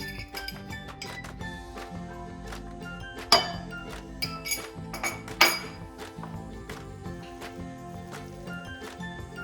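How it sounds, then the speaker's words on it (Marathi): Cabbage bhaji batter being mixed with gram flour: a spoon clinks and scrapes against a bowl in irregular strokes, with two sharper knocks standing out over a soft tonal background. "आता आपण हे सगळं एकत्र करून घ्यायचंय मिश्रण।"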